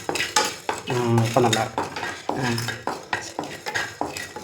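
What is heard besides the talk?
dry-roasting ingredients for chicken masala, stirring in pan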